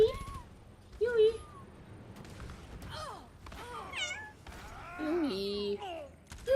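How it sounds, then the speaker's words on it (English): A small kitten meows several times, high wavering cries scattered across the moment with a longer drawn-out meow near the end, close and clear amid light background noise and a person speaking. "It's a little cute little kitty."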